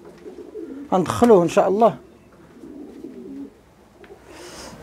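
Racing pigeons cooing close by in a loft ahead of an official 140 km race, a burst of throaty coos in the first seconds, then softer murmuring, with someone speaking over them.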